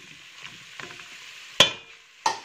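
Macaroni with vegetables in broth is stirred in a pot over the heat, a soft steady sizzle with faint shuffling, then two loud sharp knocks of the utensil against the pot near the end, close with no talk.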